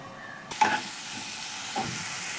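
Spice paste masala with a few grains of sugar frying in a pan for a Bengali egg and pointed gourd curry, with a sudden soft sizzling hiss that starts and then holds steady, plus a faint stir.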